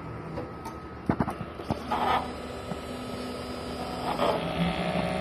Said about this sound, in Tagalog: Patapos po mag-head clean ay pupunasan ang wiper.